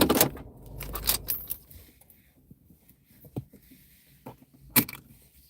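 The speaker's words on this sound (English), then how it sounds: "let's turn the car off so we can hear" Car being switched off in a parked spot, followed by keys jangling in several close, bright bursts, with quiet rustling and a few small clicks between them.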